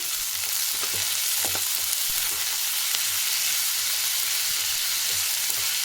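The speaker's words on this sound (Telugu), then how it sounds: "ఇప్పుడు దీన్ని బాగా ఫ్రై చేసుకుంటాము." A small tomato sizzling in a pan for mutton sambar, a steady broadband hiss of oil with soft stirring clicks scattered throughout, loud and continuous with no voices.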